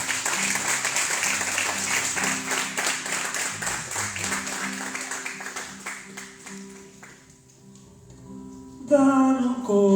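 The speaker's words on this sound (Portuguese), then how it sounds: "Você pode dar uma salva de palmas para Jesus?" Church congregation applauding in a dense burst of clapping that gradually thins and fades, then gives way to the start of worship music.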